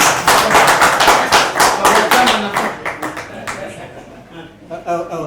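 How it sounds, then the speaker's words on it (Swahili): Conference audience applauding, a dense run of claps that peaks early and thins out over several seconds, with voices and talk rising underneath toward the end. "Hiyo makofi mnaweza niongezea kidogo"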